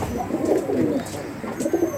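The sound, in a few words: pigeon cooing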